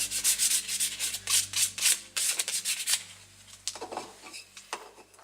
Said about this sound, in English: sanding a bit down